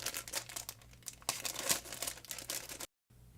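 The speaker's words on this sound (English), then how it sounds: "I'm going to take these out of the plastic" Plastic bags being pulled off model kit runners for a 1/100 Master Grade RGM-79 GM White Dingo kit, giving close, soft crinkling and rustling in uneven bursts with a brief pause near the end.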